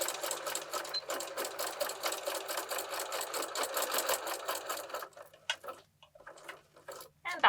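A sewing machine stitches along the edge of a homemade insulated reusable bag with Velcro lined up at the top, running in a rapid, steady mechanical patter for about five seconds before slowing and stopping amid quieter handling noises.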